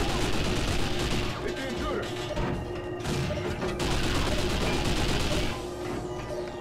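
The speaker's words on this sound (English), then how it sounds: "Who the fuck is shooting me?" Rapid, continuous gunfire from the video game 007 Nightfire crackles loudly and densely throughout, with bursts layered over steady game background noise.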